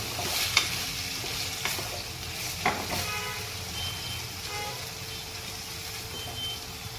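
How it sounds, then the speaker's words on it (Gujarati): Carrots and mixed vegetables are sautéed in a pan for Gujarati pulao rice, with a soft, steady sizzle and a few light clinks from stirring against the pan. "આને આપણે સારી રીતે સાતળી દઈશું।"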